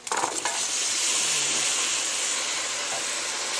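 A loud, steady sizzling hiss of peppers hitting hot boiling liquid, with a brief splash at the start and continuous bubbling steam throughout.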